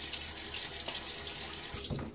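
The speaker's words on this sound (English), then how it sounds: "throw a little water on my face" A bathroom tap runs steadily into a sink while water is splashed onto a face before a shave, giving a loud continuous hiss broken by a few wet splashes near the end.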